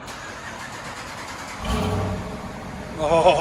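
A 3.6 liter V6 in a Dodge Durango or Jeep Grand Cherokee cranks and fires, then idles and gives a short rev near the end, close by, with a brief spoken exclamation.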